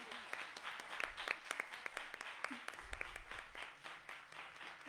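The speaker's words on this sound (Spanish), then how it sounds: "Les pido un aplauso, por favor" Applause from an audience at an environmental law seminar, rendered as sustained, fairly faint clapping with many sharp individual claps scattered through a steady patter, lasting throughout.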